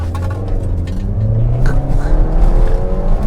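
A modified second-generation Maruti Swift petrol hatchback drones steadily with strong intake and exhaust noise under load, a continuous loud engine note heard from inside the car with no talking.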